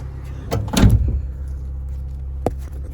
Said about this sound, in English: Let's shut the door actually